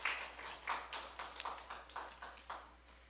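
A church congregation claps during a service, a faint, scattered round of hand claps with uneven rhythm and no voices over it.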